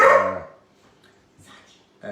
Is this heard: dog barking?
yes